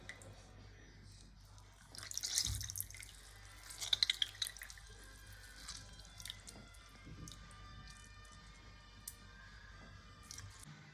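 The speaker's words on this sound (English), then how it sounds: "Squeeze the soybeans and remove all the water." Boiled soybeans squeezed by hand, water splashing and dripping in a couple of wet bursts, close and fairly quiet, with faint squishing between.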